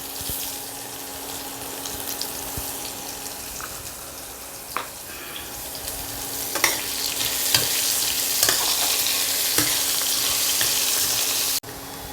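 Potatoes frying in a pan with a steady sizzle and occasional stirring scrapes and clicks, growing slightly louder partway through before cutting off abruptly near the end.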